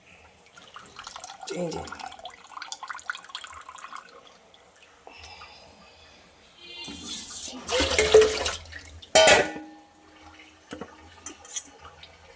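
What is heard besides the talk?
water squeezed out of chhana (cottage cheese) under cold water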